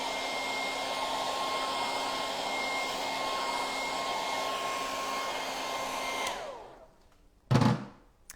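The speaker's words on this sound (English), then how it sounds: "I'm just going to hit that with the hairdryer quickly" A hair dryer blows steadily and loudly to dry stencil paint, with a constant whine and tonal hum for about six seconds before it is switched off and winds down, followed by a brief thump.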